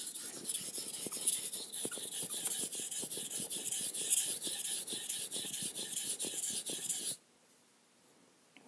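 A knife blade sharpened on a soaked Suehiro Cerax 1000 whetstone makes rapid, rhythmic scraping strokes, close and fairly quiet, for about seven seconds before it stops suddenly into near silence.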